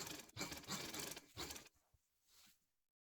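A sewing machine stitching along the margin of a frock's fabric in a short burst of rapid mechanical whirring and clatter, stopping after about a second and a half, followed by faint handling noises.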